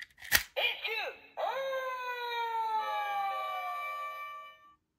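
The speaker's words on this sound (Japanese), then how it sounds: "ブンブン救急車と一緒の音ですね" A toy siren winds up with a sharp electronic wail, then holds a steady high tone for several seconds before cutting off, loud and close.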